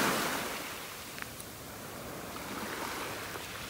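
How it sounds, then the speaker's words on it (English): Ocean waves wash continuously onto a shell-covered beach in North Naples, Florida, a broad steady hiss of surf with no distinct breaks, fairly close and alone without talk. "This is actually kind of great when the waves come in here."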